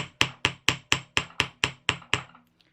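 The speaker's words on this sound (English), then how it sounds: "give it kind of a good hammer like that" Hammer blows on a small wire-wrapped spinner earring piece, nine crisp metallic taps in an even, brisk rhythm that fade at the end, close-up and alone without speech.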